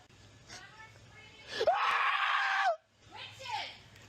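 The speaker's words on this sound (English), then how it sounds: "Who's screaming help?" A person screaming for help inside a retail store, loud drawn-out shrieks with a long piercing scream in the middle followed by a shorter wail, echoing through the space.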